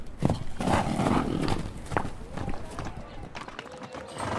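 A sturdy horse in a large open field moves with irregular hoof clops and snorting sounds under a narrating voice, fairly close and moderately loud.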